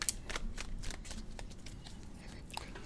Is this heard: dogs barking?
no